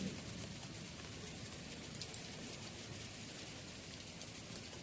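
Unseasonal rain pours steadily over an orchard with mango trees, a dense, even hiss of falling drops with no voices.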